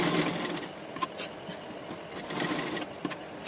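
Sewing machine double-stitching the pocket of a men's half panjabi, a steady mechanical whir with faint periodic clicks, running close and moderately loud for a few seconds without any voices.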